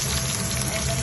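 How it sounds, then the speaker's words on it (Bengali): Potato and radish pieces fry in a pan, a brief, steady, close sizzle with no voices. "আর আলু মূলাগুলো ভাজা হয়ে গেছে"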